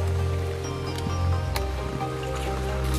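Steady rain patters and hisses continuously over an outdoor wiffle ball game, a dense wet wash with a few sharper drips, no voices standing out.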